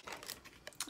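Ardell faux mink false lash packaging being opened, with crisp crinkling and tearing of plastic and cardboard in several short bursts, close and fairly quiet, with no talking.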